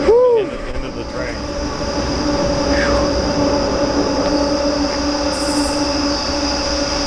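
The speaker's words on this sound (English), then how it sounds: "Okay, the train's leaving. Finally. End of the train." A train rolls steadily past in a wooded forest setting, a continuous loud rumble of wagons with wheel squeal and rail hum, a brief high whine near the start, lasting throughout.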